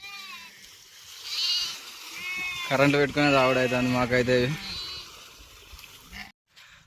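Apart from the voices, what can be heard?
sheep bleating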